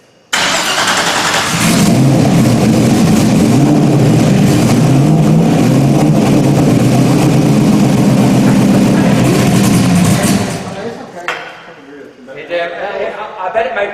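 A freshly rebuilt engine fed through a small carburetor cranks and catches, then runs loud and steady for about nine seconds before shutting off, with voices afterward.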